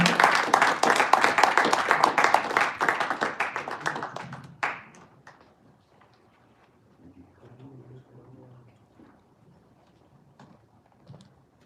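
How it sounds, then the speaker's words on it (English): A Toastmasters meeting audience bursts into dense applause welcoming the Toastmaster, loud for about four seconds before cutting off sharply, leaving a quiet room with faint rustles and distant murmuring. "A big round of applause to welcome Toastmaster Michael Wader"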